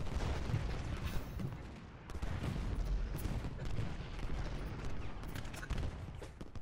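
Infantry gunfire in the Civil War strategy game Ultimate General: Gettysburg, a continuous rolling crackle of massed musket volleys and distant booms filling the scene, steady and dense without pause.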